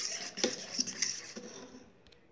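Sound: stirring tapioca batter with a spoon

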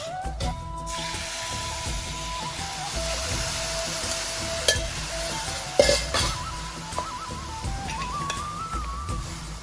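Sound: jaggery syrup poured and stirred into payasam in a pan

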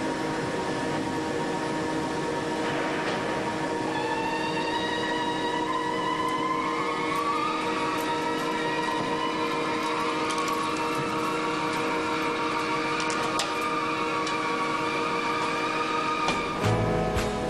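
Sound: lathe machining a Shinkansen train wheel

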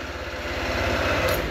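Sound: motorcycle starter cranking the engine

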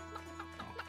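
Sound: chickens clucking in the video game Secrets of Grindea

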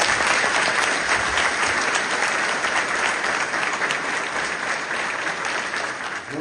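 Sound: applause for council candidates on stage

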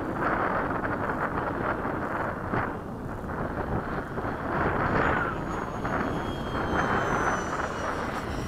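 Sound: Piaggio Avanti aircraft making a low pass

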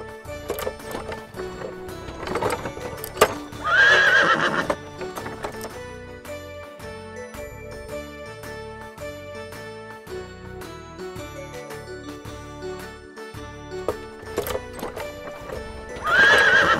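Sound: horse cart with horse neighing

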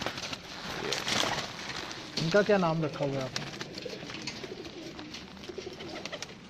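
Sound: Sialkoti pigeons in a loft

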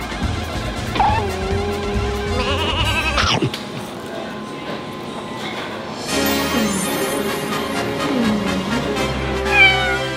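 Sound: stray cat meowing

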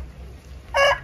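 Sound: rooster crowing

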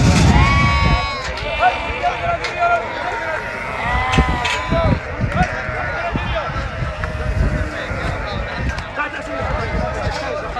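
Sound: sheep bleating at a livestock market

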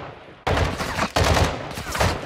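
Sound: gunshots at a lock in video game Modern Warfare 2

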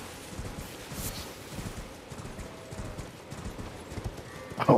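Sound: goat hooves clattering in video game Elden Ring

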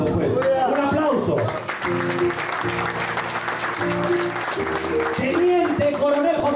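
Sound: applause

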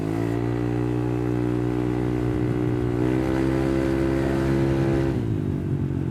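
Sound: Fiat Uno car engine running

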